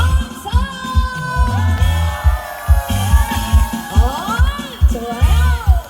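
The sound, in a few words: crowd cheering and shouting at a festival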